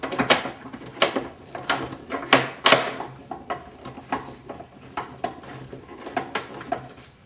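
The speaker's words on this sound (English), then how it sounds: "take a Phillips head screwdriver, unscrew these two screws" A Phillips screwdriver unscrews screws from a Bissell carpet cleaner, producing a close series of sharp ratcheting clicks and scraping turns in an uneven rhythm, loud and alone.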